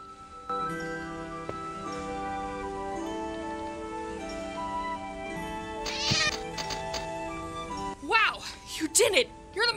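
A cat meows in a few short, rising calls near the end, heard over a musical background with voices talking earlier on.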